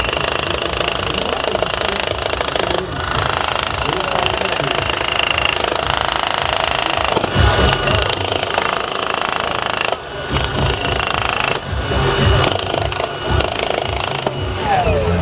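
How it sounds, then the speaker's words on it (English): A loud DeWalt jackhammer pounds concrete continuously at close range, rapid hammering broken by a few brief pauses, with no voices over it. "We're here in the world of concrete to break stuff, to make this noise."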